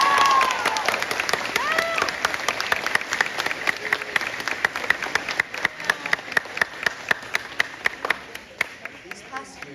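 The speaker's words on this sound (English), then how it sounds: "Please give a big round of applause for your parents, guardians, families," An audience at a school graduation ceremony applauds in dense, sustained clapping that thins toward the end into a few separate claps, while a speaker's voice carries over the crowd.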